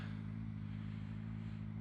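A 20-year-old Suzuki GSX-R 600 sport motorcycle engine while riding, a steady low droning hum at constant revs, loud and close throughout.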